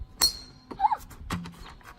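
A wet towel tip snaps against a thin drinking glass, a sharp crack followed by a short bright glassy ping, then a dull knock, close up and with no voices.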